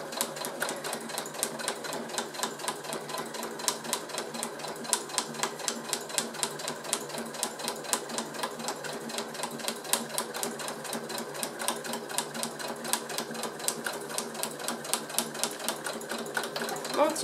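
A sewing machine stitches a diagonal seam through fabric, a steady fast mechanical patter of needle strokes running continuously at close range and moderate volume, with no talking over it.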